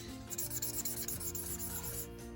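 Soft, close scratchy rubbing of an Ohuhu marker tip moving back and forth across paper in short strokes.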